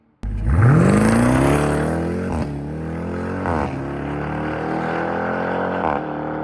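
A Dodge Charger Redeye launching at a drag strip, its engine snapping from near silence into a loud rising roar, then holding a heavy, strained drone with brief surges between gear changes.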